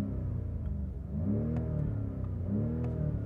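A 2021 BMW M5 Competition LCI with a 625 hp engine idles with a deep rumble, then is revved twice in quick succession. Each blip rises sharply in pitch and falls back, loud and close with no talk.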